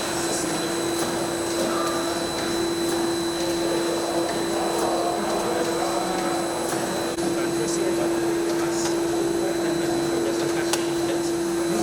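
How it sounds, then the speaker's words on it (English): An automatic cartoning machine packing blister packs into boxes runs in a factory with a steady mechanical drone and a constant high whine, punctuated by faint clicks and knocks over nearly twelve seconds. "there we have automatic cartoning machine. All blister we will transfer in box."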